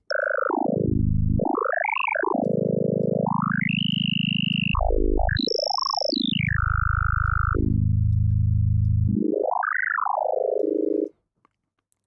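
A Vital software synth psytrance line of gliding, swooping notes, with two voices in one oscillator bending up and down together, loud and continuous before stopping abruptly.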